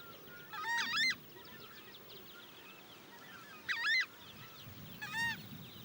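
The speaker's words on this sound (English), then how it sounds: "The voice of this strange bird the size of a turkey can be clearly heard 3 kilometers away." A turkey-sized wild bird in protected Brazilian nature gives loud, resonant honking calls in three separate bursts, one early and two later close together, with quiet natural background between them.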